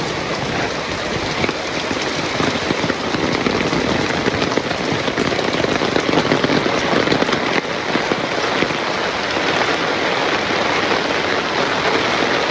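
Heavy rain pours down in a dense, unbroken hiss of drops striking surfaces, loud and even from start to finish with no voices.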